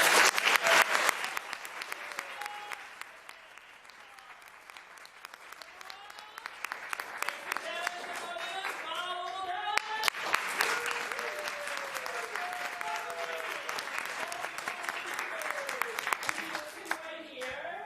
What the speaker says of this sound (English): How about we give one more time? Big applause.